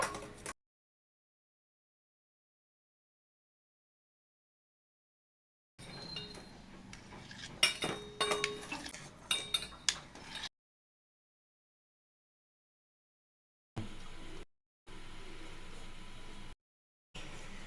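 A knife chops separated sheep blood into small cubes on a cutting surface for a spicy blood fry, giving a few seconds of close, quiet taps and clinks between stretches of silence.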